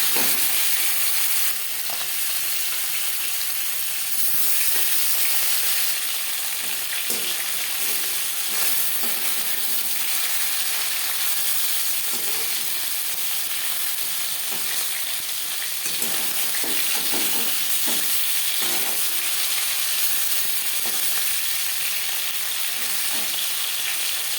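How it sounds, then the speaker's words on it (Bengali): Tilapia fish fries in hot oil in a pan, a dense continuous sizzle and crackle holding steady throughout with faint scattered clicks and shuffles beneath, close and fairly loud, no one speaking. "পরের মাছ একইভাবে ভেজে নেব"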